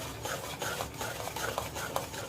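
Yogurt and cashew paste being stirred in a pan, a soft, close scraping and swishing of a spoon in rhythmic strokes, quiet and without talk.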